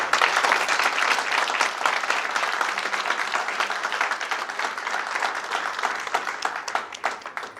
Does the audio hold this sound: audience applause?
yes